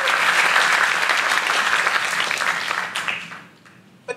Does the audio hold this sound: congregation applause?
yes